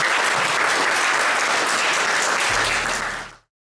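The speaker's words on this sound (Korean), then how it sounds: "여러분 저를 믿으시면 큰 박수 한번 주시기 바랍니다" Loud, sustained crowd applause at a political speech, a thick roar of clapping that holds steady, then cuts off abruptly.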